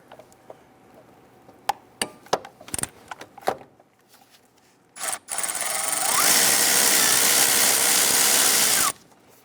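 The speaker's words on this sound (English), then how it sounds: "Now we're going to run our extension in with our deep socket." A 13mm deep socket on an extension works a nut deep in the engine bay of a 1999-2004 Jeep Grand Cherokee 4.7L V8: several sharp metallic clicks and clanks, then a loud sustained whirring run of a power tool that stops abruptly.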